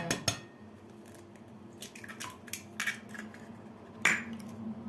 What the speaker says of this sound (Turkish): yağını ilave edip iyice karıştırıyoruz